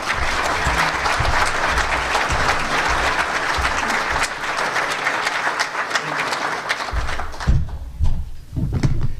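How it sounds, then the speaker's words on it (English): Seminar audience applauds as Professor Peskin is introduced, with steady, moderately loud clapping that tapers off near the end into footsteps and low room noise. "So let's give him a round of applause."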